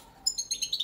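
European goldfinch of the Balkan subspecies singing: a short burst of bright, high twittering notes in quick, uneven bursts, close and fairly faint, starting after a brief quiet moment.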